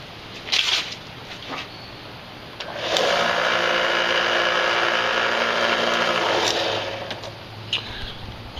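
A power sander rounds the edges of a leather knife sheath, running in one sustained, loud whine for about four seconds between shorter bursts of handling and scraping.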